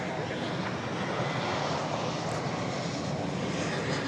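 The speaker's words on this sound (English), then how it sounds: "Here comes American Flight 2403 from the ATL. An Airbus A321." American Airlines Airbus A321 arriving at DFW at night, a loud, steady jet engine roar, close and continuous, with some talk over it.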